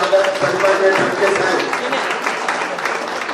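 Audience clapping to welcome a family at a community felicitation ceremony, steady dense applause from a crowd filling the hall throughout, fairly loud and close.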